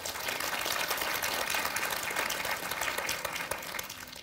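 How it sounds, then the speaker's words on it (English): A lecture audience claps in a steady, dense burst of many hands that fills the room at close range and fades slightly at the end. "Why don't you clap?"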